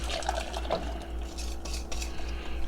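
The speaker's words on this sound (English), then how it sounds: "I'm gonna mix that up and put it in here" A spoon scrapes and clinks against a bowl while pudding and biscuit batter are stirred, soft irregular taps and scraping over a low steady hum.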